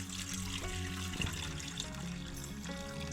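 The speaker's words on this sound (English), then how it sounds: "So now we're just going to go ahead and pour that water out" Water poured out of a measuring cup while draining a snow globe, a steady close trickle and splash running without a break, with no voices.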